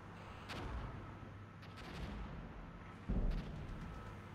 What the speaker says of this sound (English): Henry's launching artillery.